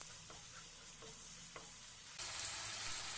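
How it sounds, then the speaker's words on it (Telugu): Egg masala gravy bubbling in a pan as garam masala is stirred through, a steady close sizzle with a few soft scraping strokes, the frying hiss growing brighter and louder toward the end. "ఇప్పుడు కొంచెమంత గరం మసాలా వేసుకొని కలుపుకోండి."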